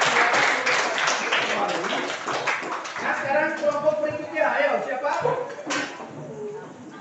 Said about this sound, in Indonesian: kita kasih tepuk tangan untuk kelompok 1 yang sudah mempresentasikan.